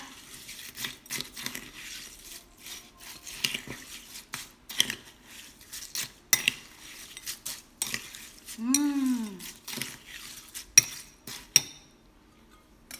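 A spoon stirs shaved ice coconut dessert with sago pearls and syrup in a cup, making a series of sharp clinks and scraping knocks at an uneven pace, close up, with a brief squeaky rubbing sound partway through.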